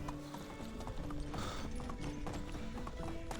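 Horse hooves clip-clop in a steady rhythm in the medieval video game Medieval Dynasty, with a busy game soundscape around them and a short neigh.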